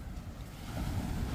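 Large waves roll in at a river mouth where boats are moored, a rough broadband wash of surf mixed with wind buffeting the microphone, rising slightly toward the end.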